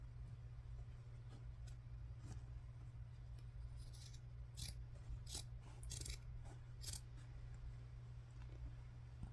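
Several crisp snipping clicks from scissors cutting fabric, close up, over a steady low hum.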